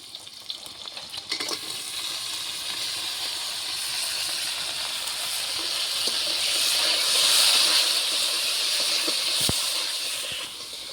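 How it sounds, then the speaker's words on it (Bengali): Crab dropped into hot oil seasoned with dried red chillies and panch phoron crackles into a steady, close sizzle that swells gradually louder for several seconds before easing off slightly, with no voices. "এখন দিয়ে দিচ্ছি কাঁকড়া"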